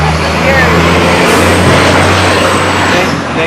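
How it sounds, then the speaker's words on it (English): A loud truck roars past outdoors near a park bench, a dense broadband rumble with a low engine drone that fills the whole stretch and masks any speech. "That truck is very loud."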